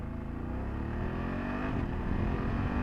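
Riding on a 2024 BMW F 800 GS motorcycle with a steady engine drone and wind, and a brief dip in the note as the quick shifter changes gear mid-run; no one talks.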